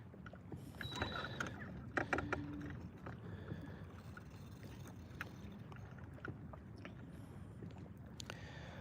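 A bass fishing boat moves over the water, a quiet low wash and hull rumble with scattered clicks, creaks and knocks of gear nearby.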